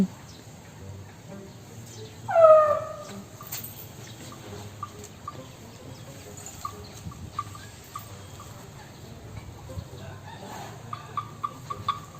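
A chicken gives a short loud call, followed by scattered soft clucks and small clicks in a quiet outdoor setting.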